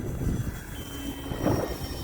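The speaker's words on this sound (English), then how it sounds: "Let's do a high-speed pass this way." An E-flite Valiant 1.3m RC plane makes a high-speed full-throttle pass, its electric motor drone rising and swelling broadly in the open air, fairly loud and continuous with a brief peak near the end.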